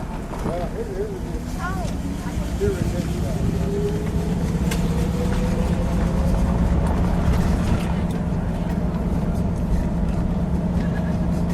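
A 1968 Plymouth Sport Fury engine with a TorqueFlite automatic idles with a low, steady hum beneath people talking nearby, the motor's note quiet but constant throughout.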